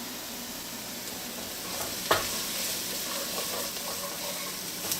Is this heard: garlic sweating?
yes